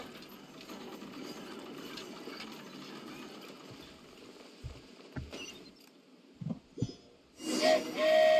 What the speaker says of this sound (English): Choo-choo! Aerial Express moving out.